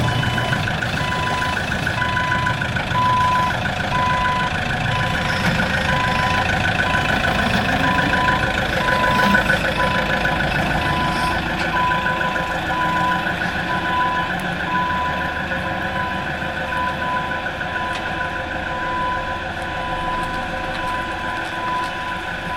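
An engine rumbles and idles steadily, loud and close, under a repeating reversing beep that pulses evenly throughout, with no voices.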